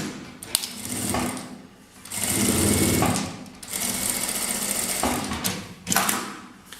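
A sewing machine stitches along the folded edge of bias binding on a fabric bag, running in several loud bursts separated by brief pauses.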